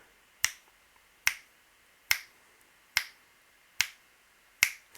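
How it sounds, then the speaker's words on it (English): Six crisp finger snaps ring out at an even, unhurried pace, each sharp and close in an otherwise quiet room. "I'll snap my fingers every time it bottoms out."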